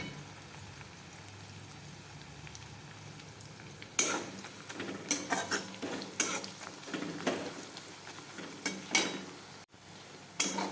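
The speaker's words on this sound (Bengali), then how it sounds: "পেঁয়াজটা আমার মোটামুটি ভাজা হয়ে গেছে, দেখো" Onions fry in a pan with a pinch of sugar for katla fish kalia: a soft, low sizzle at first, then close, loud clacks and scrapes of a spatula against the pan in irregular bursts over the hiss.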